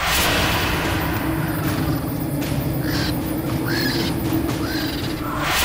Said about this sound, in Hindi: चंद पलों में चील कौवे उसे नोच नोच के खा जाते हैं।